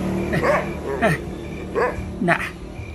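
A dog barking in short, separate yips and whimpering barks, four bursts spaced about half a second apart, close and fairly loud over background noise.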